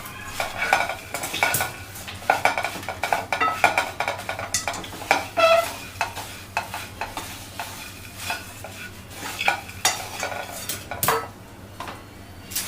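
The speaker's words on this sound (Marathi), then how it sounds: "आपण व्यवस्थित मिक्स करून घ्यायचं." Chivda masala is stirred and mixed in a pan off the heat, with rapid, repeated scraping and clinks of a spoon against metal over a faint sizzle and no talk.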